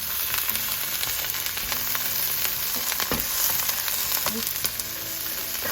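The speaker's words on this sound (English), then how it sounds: "This is sauteing, and I would add garlic, salt, and black pepper to the vegetables to season the vegetables." Vegetables sautéing in a pan over medium-high heat, a steady close sizzle with occasional soft stirring clicks running the whole time, no talking.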